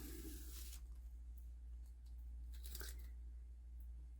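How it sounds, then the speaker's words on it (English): Tape peeled off a stencil on junky jeans fabric being made into a journal cover, heard as faint tearing rips in short bursts over a steady low hum. "let's pull up this tape"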